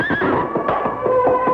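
A horse whinnies loudly and close by in a long, shaky neigh, with hoof clip-clops faintly underneath, alone without voices.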